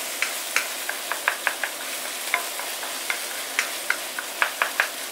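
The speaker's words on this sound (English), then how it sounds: "Saute them together." Braised tofu ingredients sautéed in a pan: a continuous bright sizzle with frequent quick scrapes and taps of the utensil against the pan, close and clear, no speech.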